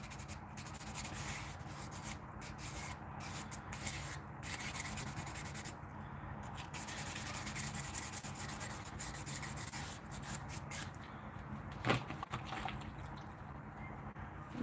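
Repeated back-and-forth rubbing of 1000 grit sandpaper on a workpiece in a shop, a soft rhythmic scratching with short pauses, close but fairly quiet.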